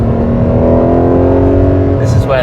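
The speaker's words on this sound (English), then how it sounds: "This is where the hills will be alive with the sound of an exhaust-equipped 12CILINDRI." Ferrari 12Cilindri V12 with an aftermarket exhaust holds a loud, steady, close engine drone on a twisty hill road, then begins to rise in pitch briefly at the end.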